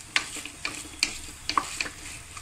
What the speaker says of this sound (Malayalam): നല്ലോണം പൊരിഞ്ഞിട്ട് വരുമ്പോൾ ചിക്കൻ ഇട്ട് കൊടുക്കാം. നല്ലോണം പൊരിയണം.